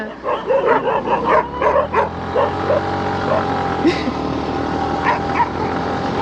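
A street dog yelps and barks repeatedly in sharp, close cries during a roadside accident on a drive through Kodaikanal, over steady car engine and road noise.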